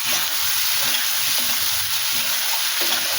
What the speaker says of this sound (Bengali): তারপরে টমেটোগুলো দিয়ে দিলাম